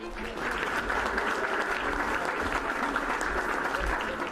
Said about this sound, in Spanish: La presentación del gabinete comenzó con aplausos para Olga Sánchez Cordero